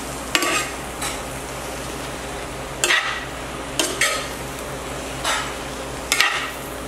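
A recipe stirred in a pot, with several scraping, clinking strokes of a utensil spaced a second or so apart over a steady background hiss, fairly close and with no talking.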